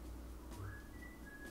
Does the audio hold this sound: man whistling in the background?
yes